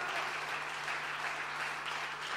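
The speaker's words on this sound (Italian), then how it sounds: "facciamogli un applauso" Church congregation at a Pentecost service applauding to welcome people joining remotely, a steady, fairly faint wash of clapping heard from a distance, with a low steady hum underneath.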